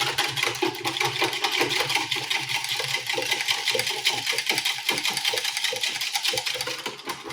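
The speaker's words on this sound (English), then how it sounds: "Let's whisk all that together." Rapid, steady clatter of a whisk beating braising liquid with brown sugar in a bowl, continuous and loud throughout with no voices.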